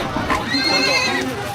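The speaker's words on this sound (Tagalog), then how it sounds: "Sa video, maririnig na ang halinghing ng mga kabayo" Horses neighing and whinnying at an illegal horse fighting event in Davao, amid a noisy, crowded background with voices.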